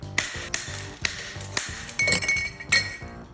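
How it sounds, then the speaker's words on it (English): An ice tapper cracks ice for a cocktail with a series of sharp, bright glassy clinks, about six separate strikes spaced roughly half a second apart, close and crisp with no talking. "You can get a cool ice tapper like this"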